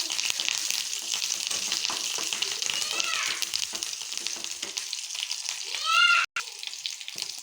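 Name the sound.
green chillies and curry leaves frying in oil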